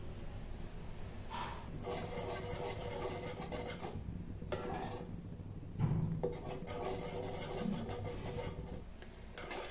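Bombay halwa is stirred in a pan over a low flame, producing soft scraping and rubbing strokes in uneven bursts with short pauses, with a faint clink or two along the way.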